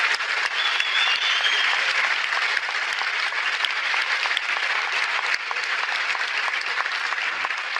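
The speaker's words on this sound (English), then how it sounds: "Please, another round of applause for Professor Dawkins and Dr. Tyson." Sustained audience applause following a science discussion with Richard Dawkins and Neil deGrasse Tyson, a dense, steady roar of many hands clapping at full strength throughout, with no speech over it.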